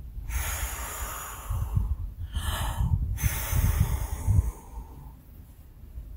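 A person takes a deep breath and blows it out hard to imitate the wind, producing a long, close, breathy whoosh followed by a second, shorter rushing exhale.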